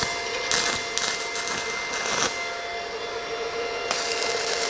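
Stick welding rod striking an arc from a welding machine, giving a continuous harsh crackling hiss with a few louder bursts, close and steady, with no talking.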